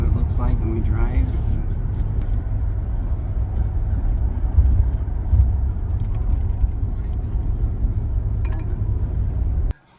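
A car driving produces a continuous low road rumble and engine drone heard from inside, with a brief voice near the start before the sound cuts off abruptly.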